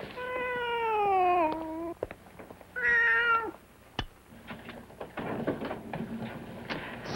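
A cat meows twice, first a long drawn-out falling cry and then a shorter higher one, loud and close. Thuds, footsteps and scraping household noises follow.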